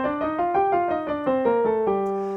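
A G natural minor scale played one note at a time in a clear, even, stepwise run of about eight pitched tones, each note sounding briefly and cleanly with no voices.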